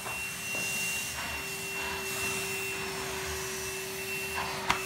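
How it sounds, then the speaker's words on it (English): An AEG vacuum cleaner runs steadily with a constant motor whine and airflow hiss, picking up debris from a mat, with a brief sharp knock near the end and no talking. "See, when it vacuums stuff up, it does actually go straight into it."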